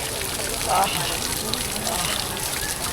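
Water pouring and splashing continuously at Sahastradhara while someone bathes, a steady broad rush close by, with a voice speaking over it.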